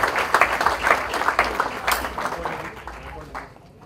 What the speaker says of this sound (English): A big round of applause to Spice for this new initiative.